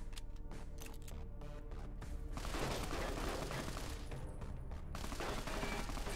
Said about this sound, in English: Seems like he's shooting at the turret down here.